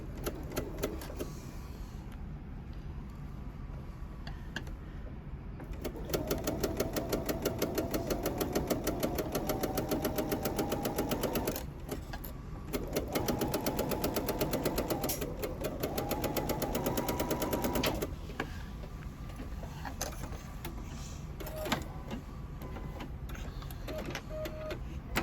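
A sewing machine stitches fabric for a carry-all caddy in two steady runs of rapid, even needle chatter separated by a brief pause, with quieter handling of the fabric before and after.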